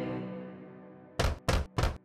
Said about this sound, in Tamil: எனவே அது மீண்டும் குடிசைக்கு சென்று கதவை தட்டியது.